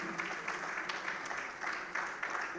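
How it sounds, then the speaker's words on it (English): Audience applause at an engineering infrastructure event, a dense, continuous wash of many hands clapping at moderate distance, steady throughout with slight swells. "Please, a round of applause for him."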